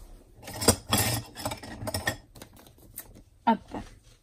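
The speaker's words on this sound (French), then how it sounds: "J'ai des ciseaux." Scissors handled during a scrapbooking craft session: a series of close, sharp metallic clicks and clinks at irregular intervals, with a few brighter snaps near the end, heard alone without talk.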